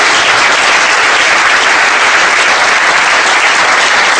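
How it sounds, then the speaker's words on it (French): A seated audience at a French business debate bursts into dense, continuous applause, loud and sustained throughout with no voices over it. "on peut les applaudir"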